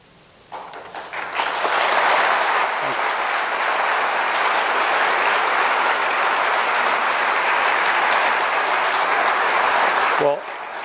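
Sustained, loud audience applause at a Holocaust remembrance gathering, swelling quickly after a brief quiet start and holding as a dense, even wash of clapping before cutting off near the end.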